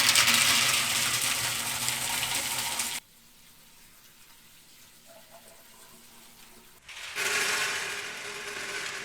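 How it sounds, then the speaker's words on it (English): Clay hydro balls for a drainage layer pour into a milk snake enclosure in two loud, dense rattling bursts, with a quieter pause between them. "So we will go ahead and get those hydro balls in here"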